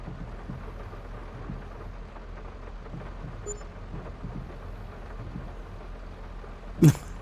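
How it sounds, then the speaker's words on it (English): Rain in the Farming Simulator 22 video game, a steady, even wash of rainfall with a faint distant rumble, ending in a couple of short loud bumps. "it started raining"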